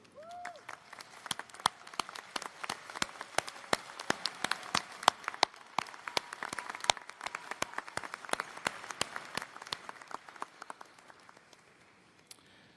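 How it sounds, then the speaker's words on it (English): A crowd applauds steadily, many hands clapping in a sustained round that fades out near the end, at a commencement ceremony. "join me in a round of applause to honor those who have"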